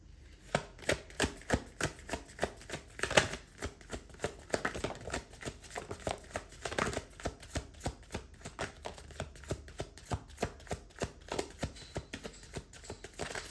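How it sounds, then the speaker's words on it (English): Tarot cards being handled and drawn, heard as a long run of quiet, regular soft taps and shuffling flicks close by, with no talking. "I will now pick the cards"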